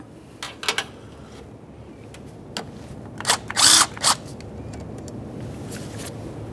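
Brief metallic clicks and a short burst of ratcheting as a 10mm mounting nut comes off a starter's battery-terminal wire on a 2006-2012 Ford Fusion 3.0L V6, with a few scattered taps before and after against a quiet background.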